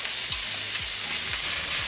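Chopped onions sizzling in hot olive oil in a pan, a steady broadband frying hiss with a few soft stirring clicks, close and even, with no talking.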